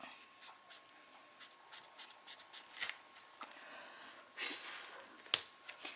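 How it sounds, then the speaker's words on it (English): Marker shading on paper for a cut-out craft image: soft, quick scratchy strokes in short bursts, fairly faint and close, with a sharp tap near the end. "I am going to go back in and do a little bit of shading on it."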